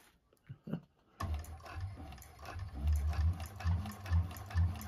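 A 1341 cylinder arm sewing machine stitches a bag, starting after a few quiet handling clicks and then running as a steady, rapid mechanical chatter with a low rhythmic thump.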